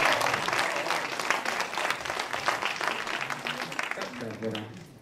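An audience at a student talent-show final gives a warm round of applause that gradually fades, with voices talking over and after the clapping.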